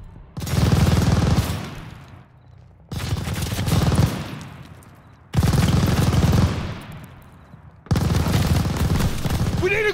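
Machine gun fire in Call of Duty Vanguard at a bridgehead, arriving as four long loud bursts of rapid rattling shots, each lasting a couple of seconds before trailing off, with short lulls between them.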